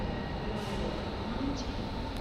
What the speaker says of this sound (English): our train finally showed up, being pulled by one of these Alstom Trax locomotives